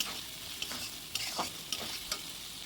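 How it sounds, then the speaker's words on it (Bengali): Mutton keema with turmeric is stir-fried in a pan, a continuous hiss of frying broken by a few scattered scraping strokes of a spoon, close and moderately loud with no voices. "এবার পরিমাণ মতো হলুদ দিয়ে আবার বেশ কিছুক্ষণ এটা কষাবো।"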